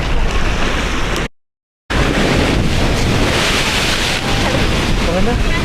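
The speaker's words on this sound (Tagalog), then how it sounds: "Malalakas yung alon dito." Strong ocean waves crash and roar at Boracay beach in the Philippines, a loud, continuous wash of surf mixed with heavy wind buffeting the microphone, broken by one brief gap of silence.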